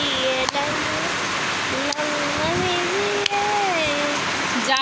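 Heavy rain pours in a steady, dense hiss close by, with a voice humming or talking over it throughout.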